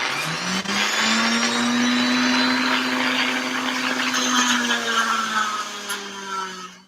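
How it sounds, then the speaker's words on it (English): A handheld power tool grinds down helmet material with a loud, steady whine that holds for several seconds close by and then winds down at the end. "So let me grind this down a little bit more."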